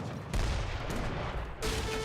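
Dense battlefield gunfire from Age of Empires 3, a steady roar of massed musket volleys with rising bursts, loud and continuous with no voices.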